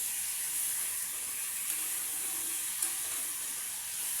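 Green chillies and cumin sizzle in hot oil in a pan, a steady close hiss that holds throughout with faint stirring clicks and no talking.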